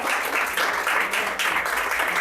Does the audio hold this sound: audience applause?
yes